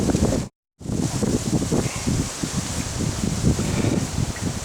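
Strong wind buffets the microphone in a steady roar with gusty rumbles on the Lake Superior shore in Minnesota, about 50 degrees and cold, briefly cut out once near the start.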